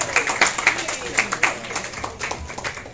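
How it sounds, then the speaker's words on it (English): Audience clapping at a gathering for Jamaican culture minister Olivia Babsy Grange's visit to Lauderhill, Florida, brisk and fairly close, with individual claps standing out over a modest crowd. "Ladies and gentlemen, let's give a bigger round of applause for this."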